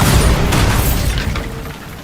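The Bombarda spell explodes in Hogwarts Legacy as one loud, broad booming blast that fills the moment at once, then slowly rumbles and fades.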